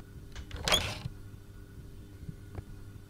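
A door opening in a horror video game: a short, fairly faint grinding creak with a quick brushing sweep, then a small click later against a quiet hum.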